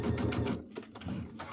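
Sewing machine stitching in the ditch on a Christmas quilt wall hanging, a short close run of rapid mechanical stitches with a brief dip before it resumes.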